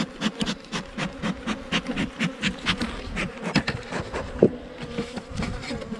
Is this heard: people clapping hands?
no